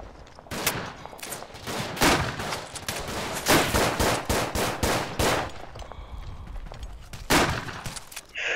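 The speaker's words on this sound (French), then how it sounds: "vous entendez les bruits de tir ou pas?" Rapid gunfire from the WWI shooter Verdun 1914-1918, with loud repeated rifle and machine-gun shots in bursts and some more distant shots between them. No one speaks.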